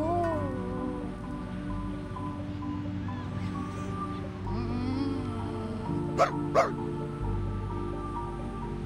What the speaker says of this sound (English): Oh, I am sorry, little puppy.